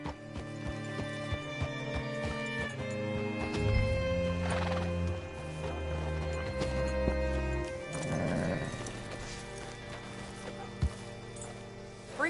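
A horse in Red Dead Redemption 2 whinnies and neighs over hooves clip-clopping on the ground, with game music and ambient sound running underneath, and no one talking.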